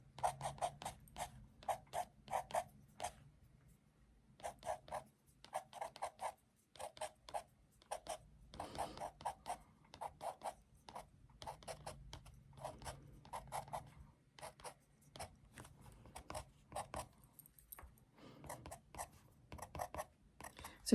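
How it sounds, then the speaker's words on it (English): Pencil strokes drawing fur on sketchbook paper for a kitten sketch, a soft, close scratching that comes in quick repeated bursts with short pauses, steady and quiet throughout with no voices. "we can go back over it again with a pencil"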